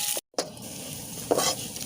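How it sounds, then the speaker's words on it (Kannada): Chopped onion sautés in oil for a banana flower sukka, a soft continuous sizzle with a spoon stirring through it, close up, broken by a brief cut. "ಇವಾಗ ನೀರುಳ್ಳಿಯನ್ನು ಕೂಡ ಚೆನ್ನಾಗಿ ಎಣ್ಣೆಯಲ್ಲಿ ಬಾಡಿಸಿಕೊಂಡಿದ್ದೇನೆ."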